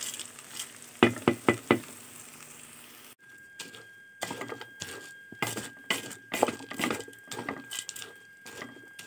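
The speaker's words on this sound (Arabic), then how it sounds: "برضو هناخدها تشويحه مع ايه؟ مع الرز ومع العدس، تقليبه حلوه كده" Rice and lentils are stirred and fried in oil for koshari, with a utensil clicking and scraping against the pot in quick uneven strokes over a soft sizzle, close up and without talk.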